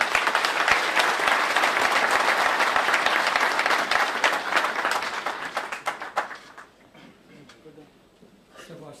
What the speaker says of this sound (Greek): Παρακαλώ ένα άξιο χειροκρότημα για τον πρόεδρο Ορθοδόξων Κριτών